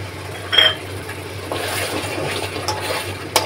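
Water is poured into mustard fish curry masala in a pan, giving a short splashing burst followed by steady soft liquid and sizzling noise.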